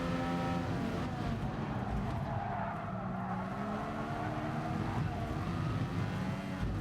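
Race car engines and tire noise from a final-lap battle in the Gran Turismo Sport racing game, a steady loud roar of engines and skidding tires that holds throughout without talk.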